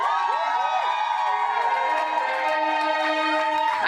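A live concert crowd cheering for the musicians with loud, sustained whoops and shouts, a dense roar of voices filling the space with sliding calls rising above it.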